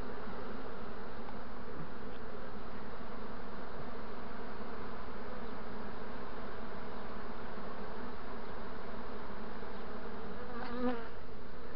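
A honeybee swarm, being returned to its hive after the queen is caught, buzzes steadily and densely throughout, close and continuous with no talk over it.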